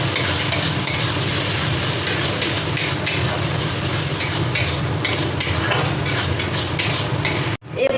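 Kashmiri chili powder and a little water stirred into a masala for chana paneer, with steady scraping and sizzling in the pan throughout, close and fairly loud, ending in a brief pause.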